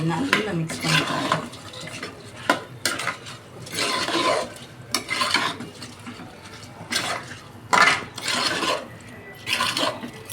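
Rice is stirred into a cooking pot while making tomato rice, with irregular bursts of scraping and clinking from the spoon against the pot, separated by short pauses.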